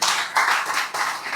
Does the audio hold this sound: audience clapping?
yes